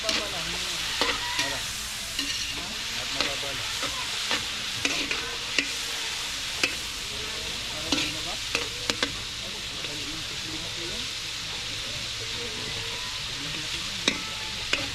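Garlic and onion sautéing in a hot pan, a loud continuous sizzle broken by repeated sharp clicks and scrapes of stirring, close by, with occasional voices in the background.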